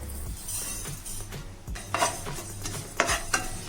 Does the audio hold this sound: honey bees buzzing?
no